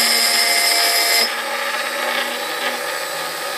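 A small high-pitched rotary drill whines steadily against glass, its pitch dropping slightly partway through, close and continuous.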